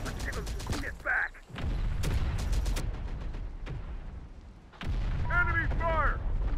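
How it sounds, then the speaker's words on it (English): Gunfire in the Terminator: Dark Fate Defiance video game: a dense bed of sustained shooting and booming artillery-like fire runs throughout, with soldiers' voices calling out over it. "Enemy fire!"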